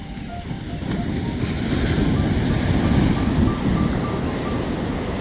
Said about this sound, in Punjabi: ਕਰ ਦੇਖ ਸਕਦੇ ਤੁਸੀਂ ਲਹਿਰਾਂ ਕਿਹੜੇ ਹਿਸਾਬ ਨਾਲ ਆ ਰਹੀਆਂ